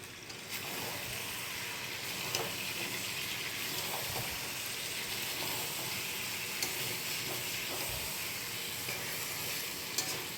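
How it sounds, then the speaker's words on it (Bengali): Meat being sautéed and stirred in a pan for a red Bengali meat curry, a steady broadband sizzle with occasional scraping stir strokes, close and continuous throughout with no talking. "মাংসটা কষানো প্রায় হয়ে গেছে"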